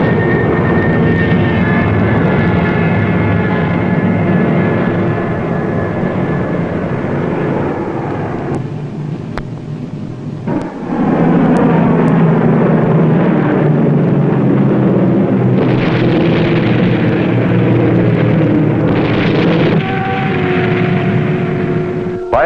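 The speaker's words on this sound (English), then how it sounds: "3 British planes attacked before Preen could submerge." Loud, steady droning of British wartime warplane engines continues throughout, with shifting tones as the aircraft pass overhead during an attack on a submarine.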